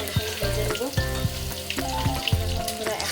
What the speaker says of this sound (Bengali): এখন হচ্ছে পকোড়াটা সঙ্গে সঙ্গে ভেজে দেবো